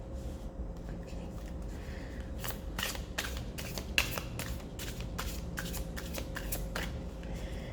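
A deck of tarot cards is shuffled up close in quick riffling bursts, one after another, over a faint background hum with no speech.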